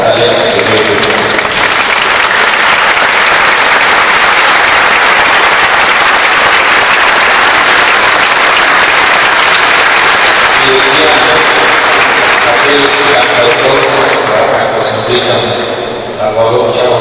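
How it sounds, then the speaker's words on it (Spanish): Loud, dense applause from a concert audience fills the whole stretch, steady crackling clapping with a brief dip near the end. "Salvador Chavo Torres decía que el aplauso es el alimento del artista"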